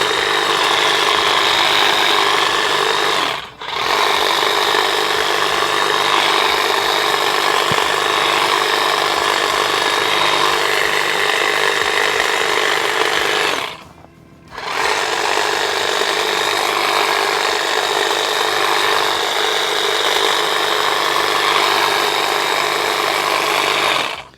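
A STIHL HLA 65 long-reach hedge trimmer cutting wavy hedges in a garden, a steady loud buzzing motor drone with rasping blade chatter, broken by two brief pauses where the machine stops before running again.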